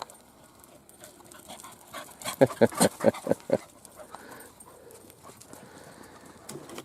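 Two small dogs romp through the woods, giving a quick burst of about half a dozen sharp yips or barks in the middle of the stretch, close by, amid quieter rustling and faint background sound.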